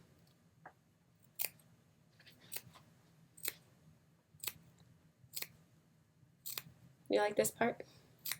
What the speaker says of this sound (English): we're going to take our scissors and just snip toward the seam allowance without going through